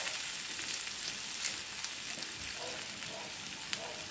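Hot oil sizzles and crackles steadily throughout as frog fries in it, a bright hissing fry with occasional pops.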